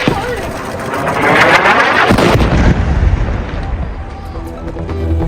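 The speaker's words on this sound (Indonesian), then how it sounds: "Sebuah ledakan terjadi di Gaza Tengah" An explosion in Deir al-Balah, central Gaza, near a displaced people's tent camp: a loud broadband blast with a rumbling, echoing tail that fades into lingering noise.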